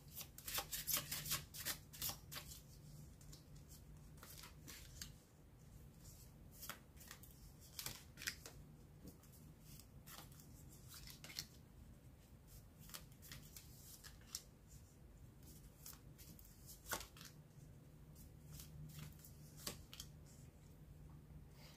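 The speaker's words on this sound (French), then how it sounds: "je vais faire le tirage avec cet oracle" Oracle cards shuffled by hand ahead of a tarot reading, giving soft, repeated papery riffles and flicks in quick bursts, close and quiet with no talking.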